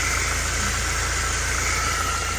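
Steady, even idle of a 2008 Mercedes Sprinter's 2.2 turbo diesel engine, recorded close by as a continuous rumble with a faint higher whine and no talk.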